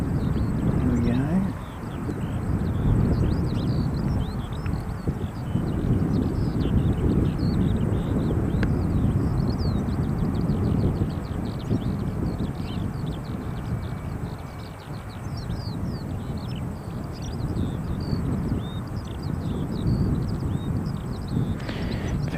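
A Fiji Airways Boeing 737 Max 8 roars steadily at an airport, a broad continuous rumble that swells and holds for the whole stretch, heard from a distance with outdoor wind noise.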